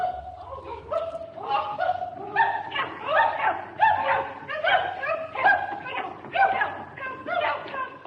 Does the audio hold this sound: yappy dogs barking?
yes